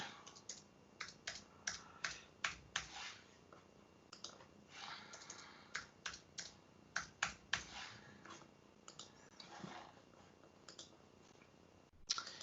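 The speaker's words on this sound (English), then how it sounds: "to make sure I can log in here as Buck Buick, I'm just going to update that password here really quick." Fingers tap out a password on a computer keyboard in a quiet, irregular run of close clicks with brief pauses, and no one speaks.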